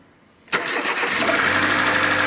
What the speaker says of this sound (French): On démarre la voiture et on verra bien.